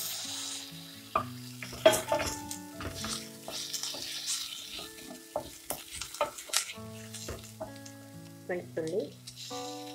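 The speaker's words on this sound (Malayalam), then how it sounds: "ഇനി ഇതിലേക്ക് ഇഞ്ചി വെളുത്തുള്ളി ചതച്ച് ചേർക്കാം." Crushed ginger and garlic go into onions frying in a pan for a thick chicken gravy, producing a quiet, uneven sizzle with stirring clatter, set against steady tonal background sounds.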